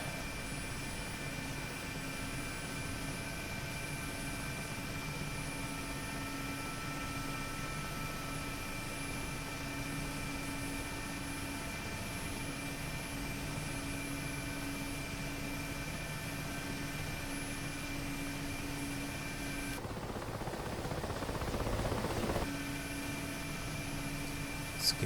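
A Mi-8MTV2 helicopter in DCS World roars through a vertical takeoff with a steady loud rotor and turbine drone. Near the end a brief hissing burst rises over it, then the engine swells slightly.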